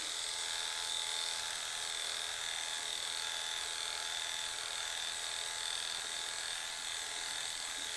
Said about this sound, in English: Always move the clipper in the direction of hair growth, especially when you're using a longer blade like a 4 or a 7.